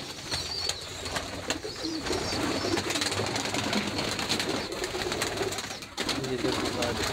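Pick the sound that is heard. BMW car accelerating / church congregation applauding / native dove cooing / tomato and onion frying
native dove cooing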